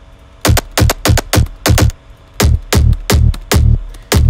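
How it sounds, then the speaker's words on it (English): Sharp resampled synth pluck bass from a dark, aggressive house track, hitting in punchy, loud, dry repeated notes with a syncopated rhythm and short gaps between hits. "So now you have this super sharp pluck"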